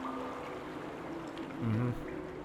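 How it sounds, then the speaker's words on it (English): Water pours in with a soft, continuous rushing wash in the game Obduction, swelling briefly near the end. "we do have some water coming in"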